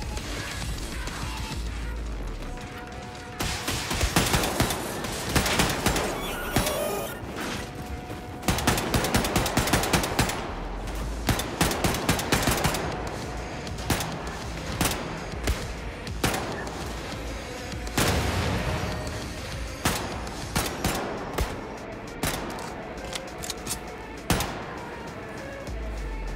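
Rapid gunfire from a sniper-mode weapon in Wolfenstein 2, dense volleys of shots crackling almost continuously, loud and close, with brief lulls between bursts.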